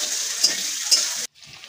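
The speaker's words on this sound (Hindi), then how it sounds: "ଏବେ ପିଆଜ ଭଲସେ ଫ୍ରାଏ ହେଇଯାଉଛି" Sliced onions frying in a pan with panch phoron spice and green chillies, giving a steady close sizzle with two brief louder crackles, cut off abruptly near the end before a fainter sizzle resumes.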